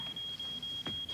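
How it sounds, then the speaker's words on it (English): A newly installed home security alarm gives off a steady high electronic beep, broken by brief regular gaps, sounding over faint room noise in a sitcom household. "Oh, it's the new alarm Mom put in. It gets real loud if you don't turn it off in like 15 seconds."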